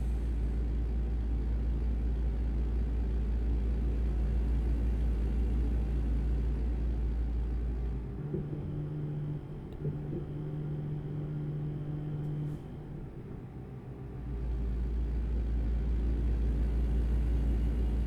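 A big rig truck in American Truck Simulator drones with a steady, loud low engine rumble throughout, easing off briefly in the middle with a faint tonal whine before the heavy drone returns.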